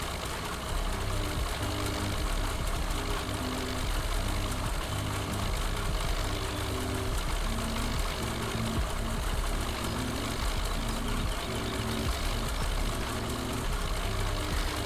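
A tractor engine pulling a potato planter drones steadily and loudly with a rhythmic mechanical chugging throughout, no voices.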